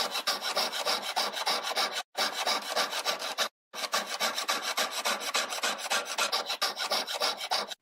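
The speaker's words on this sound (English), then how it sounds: "Always let the saw blade do the work." Hand saw blade cutting with steady back-and-forth rasping strokes for sawing and piercing work, close and fairly loud, with two brief pauses between runs of strokes.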